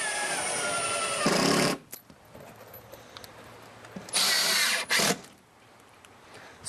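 A power drill drives 2-inch screws into sunroom framing wood in two loud bursts, the first about a second and a half long and the second shorter with a brief stutter, separated by near-quiet.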